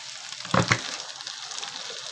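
Mustard seeds, turmeric and salt sizzle in hot oil in a pan for a tempering, a steady close crackle with a brief louder burst as the spices hit.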